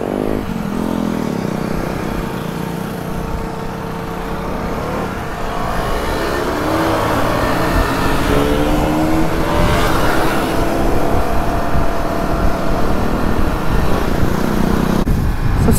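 Several KTM motorcycle engines rumble and rev nearby as a group pulls away, the roar swelling and shifting throughout.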